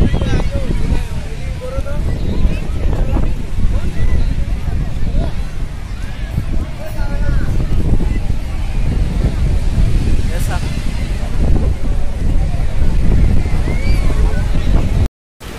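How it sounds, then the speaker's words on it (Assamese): Sea waves roll in at a crowded Juhu beach in Mumbai, making a steady, loud surf roar with wind buffeting the microphone throughout and a brief dropout near the end. "পুৰা ঢৌ আহি আছে সাগৰত"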